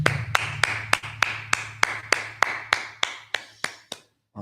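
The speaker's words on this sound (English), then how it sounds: "clap it up" Hands clap in a slow, even beat at a Sabbath service, about fourteen crisp claps that fade out before a brief pause.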